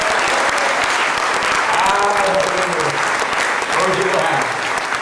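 A church congregation applauds during a wedding blessing service, with dense, loud, sustained clapping from a crowd and voices cheering and talking underneath.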